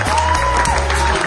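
Applause from a reunion gathering of former classmates as a teacher is called forward, steady dense clapping filling the room with a faint tonal whistle running through.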